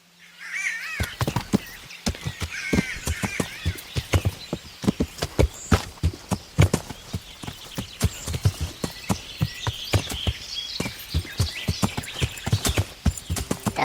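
Rapid galloping hooves of a horse in the medieval game Kingdom Come Deliverance pound in a steady, loud, close rhythm almost the whole way, after a short calm opening with faint birdlike calls.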